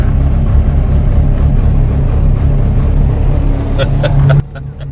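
A Cummins 5.9 diesel engine idles loud and close in cold weather just after a cold start, a steady low rumbling drone that cuts off sharply near the end.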